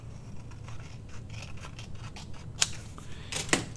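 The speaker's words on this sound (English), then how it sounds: "now I'm just going to trim this bottom off" Scissors trim the bottom edge off a junk mail envelope during a papercraft project, giving a couple of crisp, close snips near the end, with only a quiet room hum between them and no talking.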